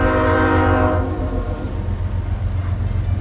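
A train rumbles past at close range near Grand Junction, with a steady low roar and a tonal horn-like whine that fades after the first second, leaving continuous rolling rail noise.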